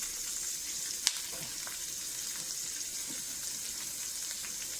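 Whole cumin seeds sizzle steadily in a pot of lamb soup, a constant close frying hiss with one sharp tap near the start, no voices.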